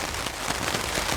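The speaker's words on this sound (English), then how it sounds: "It's been raining and pouring ever since." Steady rain pouring on a wilderness hammock campsite in Canada, a dense continuous hiss of drops pattering close by with no voices.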